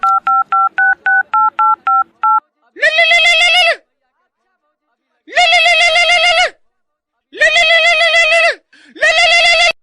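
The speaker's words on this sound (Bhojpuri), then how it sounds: "भैया के फोन अभी लगबै छिए" A mobile phone dials a brother: a quick run of about a dozen keypad beeps, then several long, loud, tonal ringback bursts separated by silent gaps.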